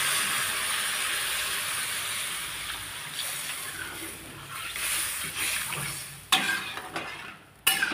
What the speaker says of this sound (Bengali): এবারে আমি জল ঢেলে দিচ্ছি, সেদ্ধ করতে হবে আলুটাকে।